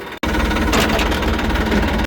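A tractor engine idles close by with a steady, loud, low rumble that runs continuously after a brief dropout at the start.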